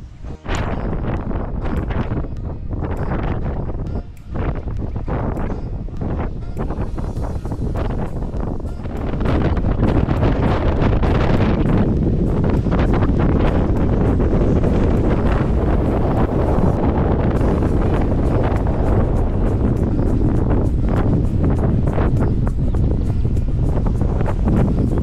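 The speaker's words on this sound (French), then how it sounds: "malgré un vent à décoiffer un chauve" Strong coastal wind in Malta buffets the microphone with loud, rough roaring gusts that build and stay constant, drowning out any other sound.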